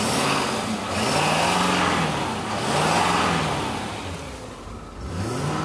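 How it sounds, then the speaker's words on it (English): A 2016 Ford F350 pickup's 6.7L PowerStroke diesel engine runs steadily and close by, its low rumble rising and falling in a few gentle revs, with no voices over it. "And I said it's a diesel, so listen."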